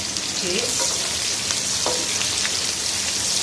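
Onions frying in hot ghee for beeh palak, a steady close sizzle with dense crackling, loud and even throughout, with occasional faint stirring clinks.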